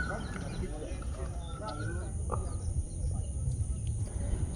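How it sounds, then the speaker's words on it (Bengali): Crickets chirp in a green garden on a pleasant morning, a thin high steady trill held under nearby talking, with a few bird calls scattered through. "সুন্দর একটা ঝিঝি পোকার আওয়াজ হচ্ছে"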